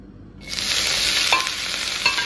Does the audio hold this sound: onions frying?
yes